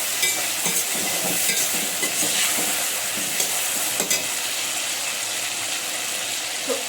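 Mixed vegetables with aubergine and tomato sizzle in a pan while being stirred, giving a steady hiss of frying broken by soft scraping stirs, close and moderately loud with no talking.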